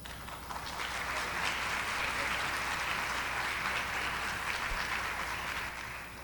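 Warm, sustained applause from an audience at a round-table event, honouring a team, rising quickly and holding steady before easing slightly at the end.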